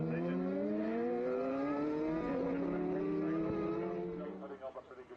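Superbike and Supersport racing motorcycles at the Cookstown 100 road race, their high-pitched engines rising and sweeping past under continuous commentary, fading toward the end.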